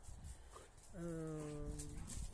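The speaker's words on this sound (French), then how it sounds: "il y avait les chiens qui faisaient les couillons" Dogs whine in a drawn-out, tonal call that starts about a second in and holds steady for roughly a second, followed by a few soft bumps, fairly close over a low background rumble.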